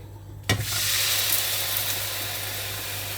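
Frozen mini shrimp dropped into a hot, dry, oil-free pan give a sudden burst of steady sizzling that settles into a continuous close hiss, with no talking.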